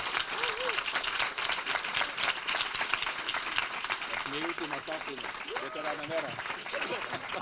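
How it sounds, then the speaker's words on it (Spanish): An audience at a political talk gives sustained applause for the translator, a steady wash of clapping throughout with scattered cheers and voices in the crowd. "Y un aplauso para el traductor, por favor"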